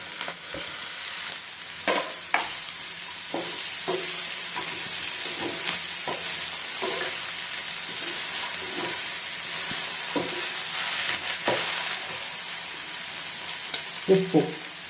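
Okra frying in a pan with curry leaves, a continuous close sizzle with repeated spatula scrapes and taps while the vegetables are stirred, no talk.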